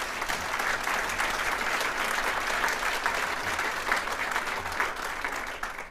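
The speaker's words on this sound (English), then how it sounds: "So we should give her a big round of applause." Sustained crowd applause at a congressional regional address event, even and continuous clapping from a sizable audience, moderately distant and without talk.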